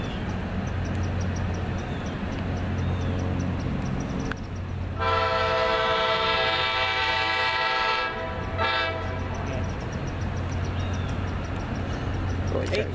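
A three-car commuter train with two locomotives rumbles past close by and sounds a long, loud multi-tone horn blast midway, with the roar of rail cars continuing around it.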